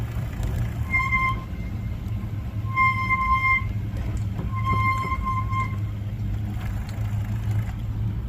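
Squealing bicycle brakes on a bike pulling a caravan trailer along a greenway give three drawn-out, high whining squeals of about a second each, spaced apart over a steady low road and wind rumble.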